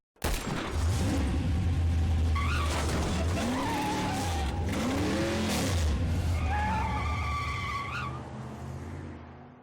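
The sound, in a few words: delivery van engine and skidding sounds in video game Tumtara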